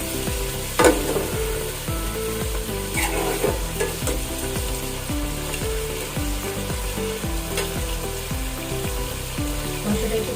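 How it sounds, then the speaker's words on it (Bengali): Duck meat is stir-fried bhuna style in a pan, a loud steady sizzle broken by a regular rhythm of spatula scrapes roughly every half second, close up and without talk. "মাংসটা একটু কষি আমরা"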